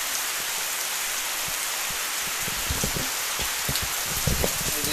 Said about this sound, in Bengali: সেই বৃষ্টি শুরু হয়ে গেছে রে, অনেক বাড়ছে